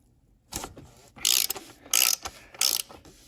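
Several short bursts of ratchet clicking come from a socket wrench loosening the oil filter on a 2008 or newer Mercedes E350 W211, close and crisp in a quiet garage, each burst about half a second long.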